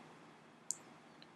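A single sharp computer mouse click while building a Microsoft Access database, faint against a quiet room, followed by a fainter second tick.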